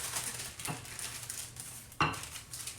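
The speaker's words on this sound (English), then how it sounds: "I get to flip over my plantain boys" Plantains being flipped in a frying pan, with sharp clinks of a utensil against the pan over a low background sizzle, one louder scrape standing out.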